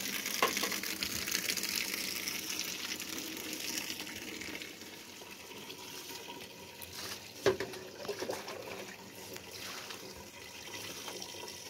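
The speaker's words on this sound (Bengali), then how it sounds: "তো মা একটুখানি জল দিয়ে দিচ্ছে, আমিও জল দেবো।" Water pours steadily onto potted plants in a rooftop garden, a continuous close splashing gush that runs the whole time with one brief louder splash near the end.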